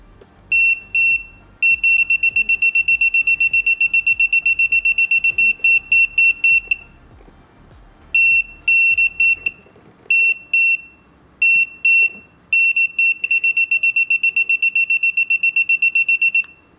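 A non-contact voltage tester beeps in rapid repeated bursts of high, shrill electronic tones as it is held near a live electrical wire, loud and close, with short pauses between the runs of beeps.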